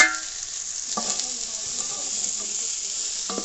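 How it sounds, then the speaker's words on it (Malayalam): Half a kilo of onions drops into hot oil for a chicken gravy, giving a loud, steady sizzle throughout, with a couple of brief utensil clatters near the start and end. "നമ്മൾ ഉള്ളി ഇട്ട് കൊടുക്കാം."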